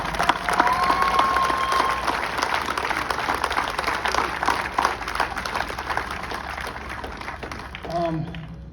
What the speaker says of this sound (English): you should give yourselves a round of applause for being here.